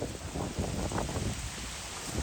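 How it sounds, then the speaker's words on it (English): Damaging windstorm gusts of around 60 mph sweep through Staten Island after a gust front, a continuous loud roaring buffeting that swells and eases in waves, close and rough with microphone wind noise and no talk. "We have damaging winds right now in Staten Island."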